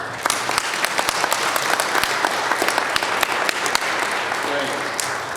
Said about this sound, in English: I think everyone who's performed so far deserves a round of applause, don't you?